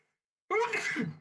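A single sharp sneeze bursts out after a moment of silence, close and clear, then trails off.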